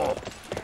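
Horse hooves clip-clop briefly in the Warriors Orochi 3 video game, a quick run of soft rhythmic hoofbeats over in-game noise.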